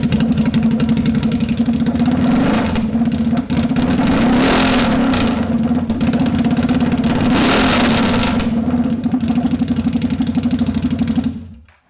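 A CFMOTO Z-Force 950 HO engine runs with no exhaust fitted, loud and close, with a raw, blatty rumble and repeated throttle blips that stumble as it struggles without back pressure.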